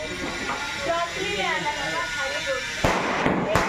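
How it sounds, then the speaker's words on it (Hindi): Two sharp firecracker bangs burst close by near the end, following a stretch of someone talking. "भैया ने इतने पटाखे फोड़ दिए"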